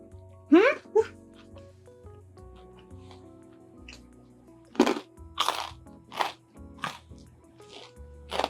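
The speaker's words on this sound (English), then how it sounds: "Do you hear that crunch?" Crunchy bread bruschetta chewed up close, with several sharp crunchy bites and chewing bursts spread across the clip between moments of quiet and a low steady background hum.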